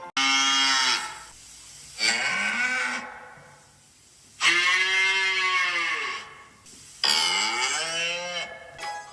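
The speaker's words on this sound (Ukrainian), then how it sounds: "Так, все вірно, це корова." A cow moos four times, long, loud and drawn-out lowing calls separated by short pauses.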